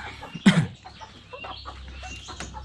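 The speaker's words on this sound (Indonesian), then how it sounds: "Di sini saya punya ayam untuk pejantannya." A male village chicken, a rooster in a dim coop, gives one loud cluck-like squawk close by. Quieter clucks and shuffling follow over a low background hum.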